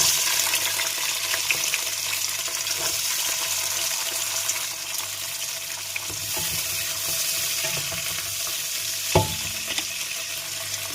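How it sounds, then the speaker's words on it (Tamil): Small onions and fennel seeds sautéing in a pan for Tamil egg curry, a steady close sizzle and fry hiss with occasional stirring scrapes and one brief clink near the end, no talking. "இப்போ இது கொஞ்ச நேரம் வதங்கட்டும்."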